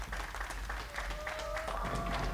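The crowd at a televised pro bowling tour event in Angers applauds after a women's division final ball. The clapping is soft and somewhat distant, with faint background noise.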